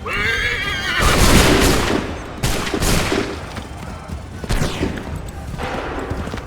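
Soldiers fire a musket volley in the video game Assassin's Creed 3: several loud, ragged bursts of massed gunfire crackle and boom in succession, with a horse whinnying nearby between the shots.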